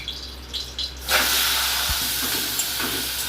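Prawns dropped into hot oil in a wok, bursting into a loud, steady hiss that starts abruptly after a quiet moment and carries on close and continuous to the end.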